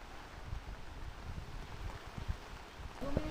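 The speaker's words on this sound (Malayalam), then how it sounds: "ഭയങ്കര കാറ്റാണ് കേട്ടോ." Gusty wind with heavy rain roars and buffets the microphone with a low, rumbling rush that swells and drops unevenly for the whole stretch.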